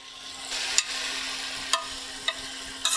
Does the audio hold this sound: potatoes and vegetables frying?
yes